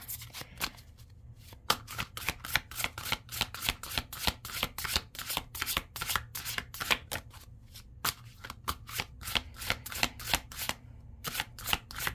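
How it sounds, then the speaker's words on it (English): Tarot cards are shuffled over and over in quick crisp riffles, a steady rapid flutter of snapping card edges close by, with brief pauses between runs. "This is like really hard to shuffle."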